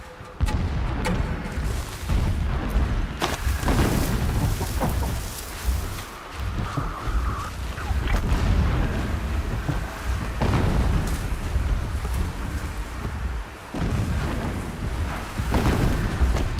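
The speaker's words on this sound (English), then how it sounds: "Explosions in the distance." Distant explosions in the Horizon Zero Dawn video game, a steady series of deep rumbling booms and blasts rolling on without pause, loud and heavy, with no voices over them.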